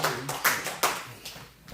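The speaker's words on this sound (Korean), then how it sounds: "자, 박수 보내주세요." An audience claps for a singer at a year-end gathering, a short run of distinct, irregular hand claps, fairly close and moderately loud, fading quickly.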